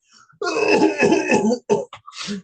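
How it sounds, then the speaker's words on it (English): A close, rough bout of coughing and throat clearing: one long raspy burst followed by a couple of shorter hacks. "I'm going to cough again, excuse me."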